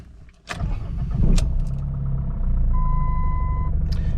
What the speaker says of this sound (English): Let's pull out of the garage here.